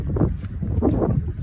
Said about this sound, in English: it's super windy and it's cold